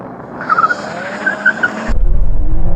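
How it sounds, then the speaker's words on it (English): A BMW M3 spins its wheels at the start of a drag race, a loud tire squeal with skidding over engine roar that cuts to a rough, pulsing engine note up close. "Bit of wheel spin there."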